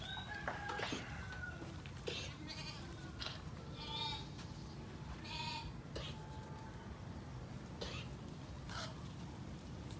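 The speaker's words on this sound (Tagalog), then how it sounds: "Yan po yung dalawang mama goats" Several goats bleat in short, wavering calls scattered through the scene, with fowl clucking and quiet farmyard background around them.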